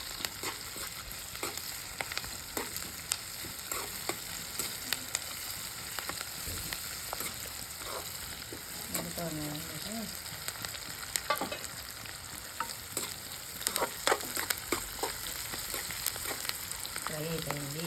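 Crushed garlic cloves frying in a pan with oil, a steady close sizzle broken by small pops and scrapes of stirring, with no talking.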